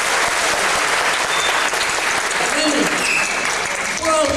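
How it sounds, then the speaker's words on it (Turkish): An audience at a folk music concert applauds continuously, a loud, dense roll of clapping from a large hall with a voice faintly speaking near the end. "Bu alkışlar benim için değil"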